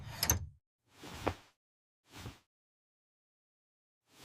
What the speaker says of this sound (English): The door is locked tight.